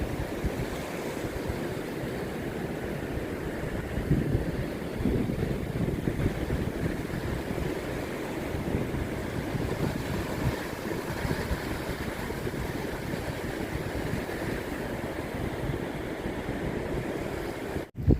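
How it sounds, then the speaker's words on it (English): Water of the Lucia River pouring out through the St Lucia Estuary, a continuous broad rushing and surging wash with wind buffeting the microphone, steady throughout. "all the water coming down the Lucia River, it's scouring the opposite bank over there, so it's going straight out"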